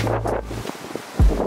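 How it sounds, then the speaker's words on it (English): Strong wind at a beach buffets the microphone with a steady low rumble and rushing noise, ending in a brief louder gust. "See all the wind?"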